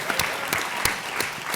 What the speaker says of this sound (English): Round of applause for Dean and JP.